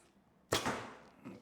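An arrow loosed from an Allawn Archery Aswad bow strikes a target with a single sharp, close thud that fades over about a second, with a faint trailing rustle.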